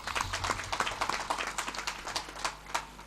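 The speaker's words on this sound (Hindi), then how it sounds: "इसलिए एक बार जोर से बजाओ ताली।" Audience clapping loudly at a Chhattisgarhi Ramayan recitation, a dense run of many hands rising in bursts and continuing steadily throughout.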